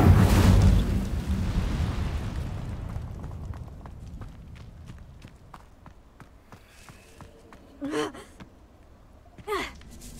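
A fire spell, Incendio, cast in the video game Hogwarts Legacy, a loud whooshing roar of flame that erupts at once and then fades slowly into crackling, with a couple of short vocal sounds later.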